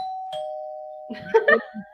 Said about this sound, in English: I think someone's ringing the doorbell.